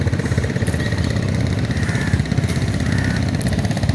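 A trawler boat engine runs steadily on a river where many trawlers crowd together, a loud, continuous mid-pitched chugging throb with no pause.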